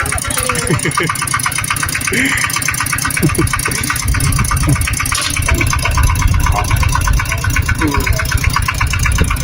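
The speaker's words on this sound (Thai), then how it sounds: "ตอนนี้กำลังถอยรถ" A car engine idles steadily and loudly while the vehicle reverses, a continuous mid-pitched hum throughout with people talking over it.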